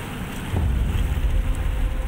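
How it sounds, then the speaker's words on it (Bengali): Teesta river floodwater rushing in after heavy rain in North Sikkim, heard as a loud, dense, continuous roar of moving water with low rumble, steady and close, without speech. "হুহু করে ঢুকছে তিস্তার জল"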